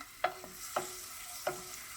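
Cashews and raisins fry in a pan, with three soft scraping stirs spaced about half a second apart over a faint, quiet sizzle.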